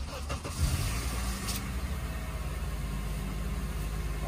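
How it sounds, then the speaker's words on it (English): A Honda Accord engine starting up, with a short cranking burst followed by a steady, low idle rumble from close by. "I can just start the engine right now."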